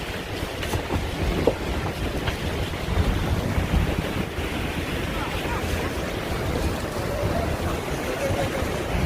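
Sea waves wash along the Jeddah Corniche beach in a steady rushing surf mixed with wind noise, with faint voices in the background.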